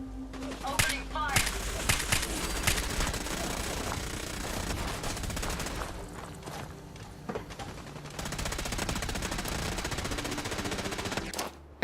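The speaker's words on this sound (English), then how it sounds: "Opening fire!" Rapid automatic gunfire in Fallout 4 survival mode, dense bursts of machine-gun fire with grenade blasts continuing throughout, loud and close, with a person talking over parts of it.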